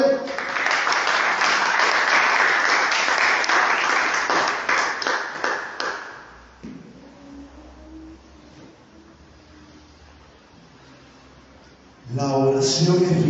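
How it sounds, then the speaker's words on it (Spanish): Church congregation applauding during a sermon, loud dense clapping for about six seconds that fades out, followed by quiet room tone with faint voices, then a burst of speech near the end. "Denle un fuerte aplauso a Él."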